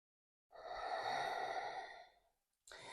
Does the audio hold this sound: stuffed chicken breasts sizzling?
no